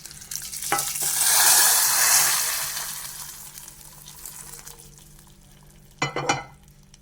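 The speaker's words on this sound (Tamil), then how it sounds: "நம்ம தாளிச்சு வச்சதை ஊற்றிக்கலாம்." Sizzling tempering is poured into cooked dal. A loud hiss swells, then slowly fades, and a sharp burst of sizzling and clatter follows near the end.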